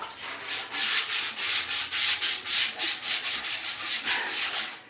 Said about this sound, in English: I'm using 400 grit sandpaper.